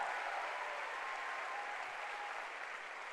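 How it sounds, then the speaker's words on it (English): Audience applause at an Amway recognition event, a steady, moderately distant wash of clapping that holds evenly and fades slightly toward the end. "Give them a round of applause."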